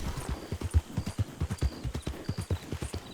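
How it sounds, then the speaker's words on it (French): Hooves of a galloping horse in a video game, a steady run of sharp, close clip-clop beats at an even quick rhythm, with no talk over them. "En tout cas il galope bien le cheval"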